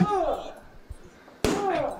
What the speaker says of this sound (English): I'm caving the door in.